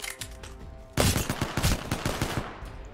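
Gunfire in the shooter game Apex Legends: after a quieter stretch, a rapid burst of automatic shots starts abruptly and continues as dense, loud repeated cracks to the end.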